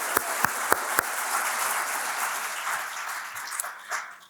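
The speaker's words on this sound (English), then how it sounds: "Let's give them a round of applause" An audience at a museum lecture with artist Charles Gaines applauds, opening with a few sharp distinct claps that swell into a steady, dense round of clapping, then taper slightly.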